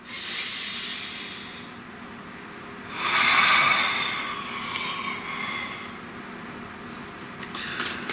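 A slow, deep breath drawn in and released, a soft airy rush that swells in the middle and fades, close and quiet, with no talking.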